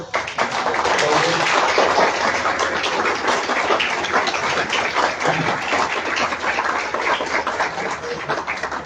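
Sustained, dense applause fills a press conference hall, welcoming a resistance group from Asunción Mita, steady and loud from start to finish with some voices mixed into the clapping.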